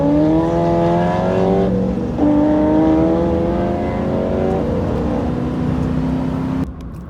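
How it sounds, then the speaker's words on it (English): Chevrolet C6 Corvette engine revving and accelerating loud and close, a rising snarl that climbs in pitch, dips at a gear change around two seconds and keeps pulling before easing off near the end, with no talk. "Hands down, one of the best sounding C6s I've ever heard."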